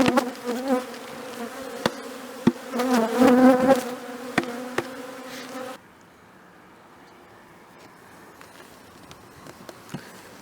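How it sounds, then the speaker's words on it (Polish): Honeybees buzz loudly at an open hive in February with dense droning and sharp clicks, then the buzzing drops abruptly to a faint, distant hum. "zrzucam pszczoły"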